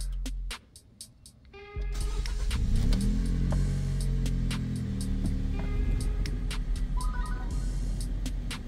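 A car engine cranks and fires up, then settles into a steady idle hum with a faint whir, close by and continuous, with scattered clicks and light ticking over the engine note during an engine bay clean.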